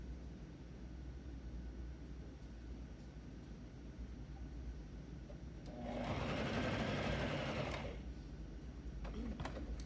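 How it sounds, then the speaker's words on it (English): A sewing machine stitches knit fabric for pajamas in a short burst of fast, steady motor whirring, moderately loud and close, set against quiet room tone before and after. "when you're sewing with a knit fabric. Do not stretch it. When you're sewing it, just sew it together."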